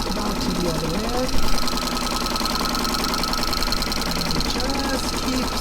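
A sewing machine with a walking foot runs steadily as it quilts strips of fabric, giving a continuous close mechanical whir and rapid stitching rattle while someone talks over it.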